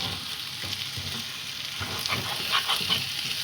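Marinated prawns sautéing in oil in a pan for spicy prawn masala, a continuous close hiss of frying with occasional stirring clicks and small spits.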